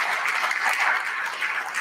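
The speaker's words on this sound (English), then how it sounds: "Please clap for yourselves." A workshop audience claps together in a short, dense burst of applause that holds steady for a couple of seconds.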